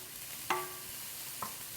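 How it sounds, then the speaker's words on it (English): A spoon stirs rice with onion and pepper in a pot over a soft sizzle, with two short scraping strokes against the pot. "We're just going to stir that around."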